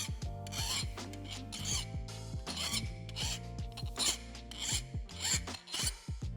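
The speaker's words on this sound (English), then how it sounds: "to make sure your part is safe to handle, you must deburr it using a file." A hand file rasps across the sharp edges of a milled metal part to deburr it, in repeated close strokes at a steady rhythm, loud and alone.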